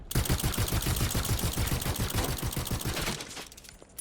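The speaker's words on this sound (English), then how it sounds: "I'm curious to hear the gunshots." Rapid automatic gunfire from the video game Overwatch 2 rattles off in a fast, continuous burst for about three seconds, then breaks into a few scattered clicks and shots.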